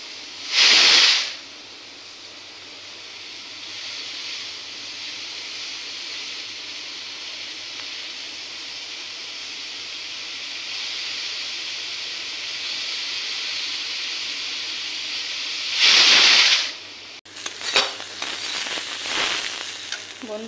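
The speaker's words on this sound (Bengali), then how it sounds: "ভাত হচ্ছে" Steady hiss of steam and bubbling from a pot of rice boiling on a stove, continuous and moderately loud, with two brief louder bursts of sputtering hiss and some clatter near the end.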